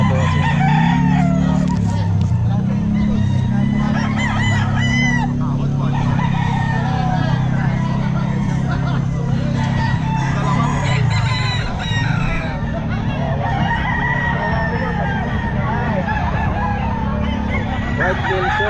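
Several gamefowl roosters, including White Kelso birds, crow repeatedly at the busy Bocaue pet market. Overlapping calls ring out loud and close over constant crowd chatter, clucking and distant traffic.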